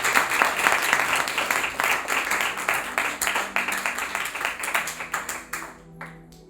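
A church congregation applauds the Lord during a sermon, a dense burst of many hands clapping that fades toward the end, with faint talk underneath.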